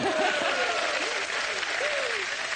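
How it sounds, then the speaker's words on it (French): A French television game show studio audience applauding steadily and loudly, a dense wash of clapping with a voice speaking briefly over it. "Mesdames, messieurs, tout ça s'applaudit aussi."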